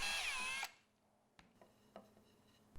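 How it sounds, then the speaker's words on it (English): A power drill bores through a 1-inch wooden dowel held in a jig, one loud whining burst of about half a second that cuts off, followed by a few faint knocks and handling clicks. "I could put the 1-inch dowels flush into the hole and drill through the dowel and have a centered hole."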